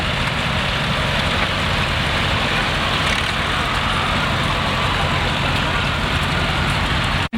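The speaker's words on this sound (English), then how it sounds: "Interesting tractor, a Fordson N, made in Dagenham, converted with these tracks" A Dagenham-built Fordson N tractor converted to run on tracks rolls past at an outdoor steam rally parade, giving a loud, continuous low engine rumble and broadband roar that stops abruptly at the end.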